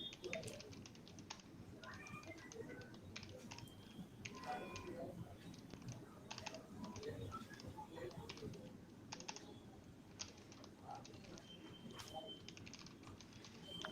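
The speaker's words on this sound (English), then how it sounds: "I should just start typing" Steady rapid typing of code on a computer keyboard, a continuous patter of close keystrokes with occasional louder key hits throughout, no speech over it.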